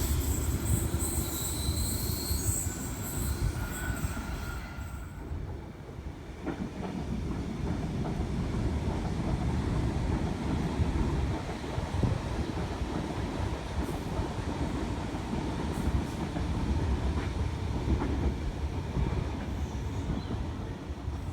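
A Sydney electric train running through platform 4 at St Peters station, a steady loud rumble and rattle of wheels and carriages that carries on for twenty seconds, with a brief whine early on.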